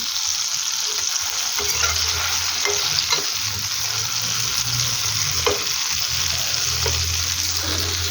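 Eggplant slices fry in a pan with a constant loud, close sizzle and hiss, broken by occasional stirring clinks and scrapes, and no one speaking.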